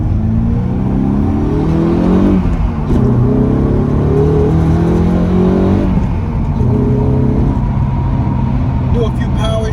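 Lexus IS 300 F Sport engine revving through power shifts, repeated rising engine notes with brief dips between gears, loud and close from inside the car, with a voice talking over it.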